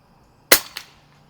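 A single sharp crack from a Smith & Wesson 77A .22 caliber multi-pump air rifle at an outdoor range, followed a moment later by a fainter impact, with quiet around it.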